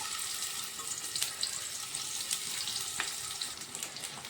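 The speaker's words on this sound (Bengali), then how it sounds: "তেল দিয়ে প্রথমে আমি পেঁয়াজ দিয়ে দিচ্ছি," Onions and green chillies fry in hot oil in a wok with a steady, close sizzle and crackle, with a few sharper pops breaking through; no one speaks.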